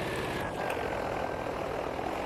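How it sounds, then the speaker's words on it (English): A plane in the Battlefield V video game drones steadily overhead, a continuous broad engine roar with a faint passing whine, no one speaking. "It's a plane over C right now."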